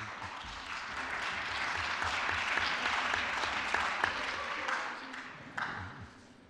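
Audience applause in a council assembly session on European maritime transport policy, a broad, even wash of many hands clapping that swells and holds, then tapers near the end, heard from a distance.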